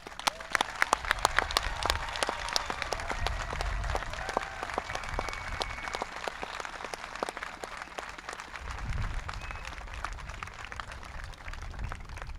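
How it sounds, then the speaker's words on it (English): Applause from the crowd at a high school graduation ceremony for the graduating class, steady clapping at a moderate distance with some sharper nearby claps early on and low rumbling underneath. "Let's give them one more round of applause."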